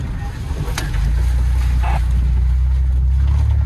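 An off-road vehicle pushes through a water crossing on the Kane Creek trail near Moab, Utah, with a loud, steady rush of splashing and churning water over a low engine rumble, close and continuous.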